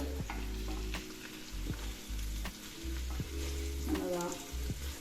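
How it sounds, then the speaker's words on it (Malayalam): Chicken frying in a pan for Palakkad style chicken biryani gives a continuous sizzle with stirring scrapes and periodic low hum, close and steady, with no talk. "നമ്മുടെ ചിക്കൻ ഫ്രൈ ചെയ്തത് ഏകദേശം ആയിട്ടുണ്ട്"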